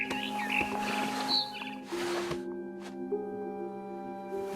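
A barn swallow chirping outside a window in the video game What Remains of Edith Finch, a few short high chirps near the start over a humming musical drone, with soft rustling bursts between.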